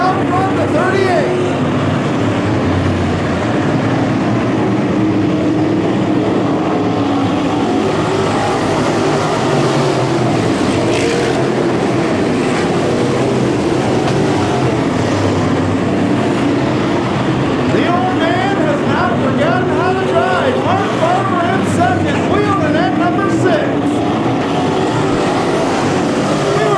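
Modified race cars roar around Thunderbird Raceway in a continuous dense engine drone, several cars near at once, with a race announcer calling the action over the top.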